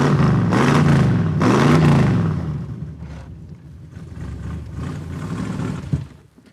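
A pro street race car engine runs loud and close, swelling through two strong revs, then dropping back to a rougher, uneven idle with a sharp knock near the end.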